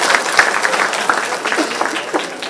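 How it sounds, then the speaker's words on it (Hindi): A crowd at a Bharatiya Janata Party political rally in Bhiwandi breaks into brisk, loud applause, with dense clapping and a few sharper claps close by, and faint voices under it. "पक्का करेंगे तो ताली बजाइए दीदी के लिए।"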